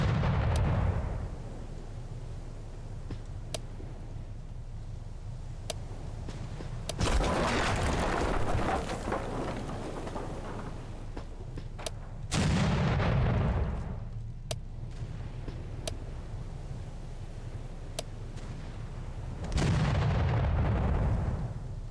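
Heavy naval guns fire in a World War II sea battle in Victory At Sea Atlantic, with several loud booming salvos spaced a few seconds apart, each rolling out into a long rumbling decay.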